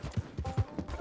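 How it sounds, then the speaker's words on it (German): A horse's hooves clop in a steady, loping rhythm while riding along railway tracks in Red Dead Redemption 2, with about six fairly close, moderately loud beats over about a second and no talk. "Wir reiten jetzt hier einfach den Schienen entlang"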